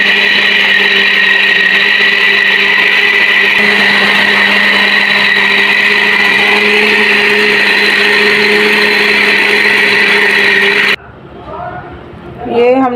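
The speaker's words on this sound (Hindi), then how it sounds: "तो सबसे पहले हम चॉपर में ये जो छोटी बोटियां करके रखी हम ये डालेंगे और इसका कीमा बना लेते हैं" An electric chopper whirs in a steady, loud high-pitched drone as small pieces of meat are minced into keema, running continuously before cutting off, followed by a brief quieter stretch with faint sounds.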